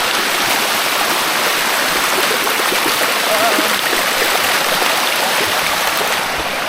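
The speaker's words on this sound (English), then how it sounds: "So this is called sticky waterfall." Sticky Waterfall near Chiang Mai rushes in a constant, loud, close roar of flowing and splashing water, with faint voices beneath it.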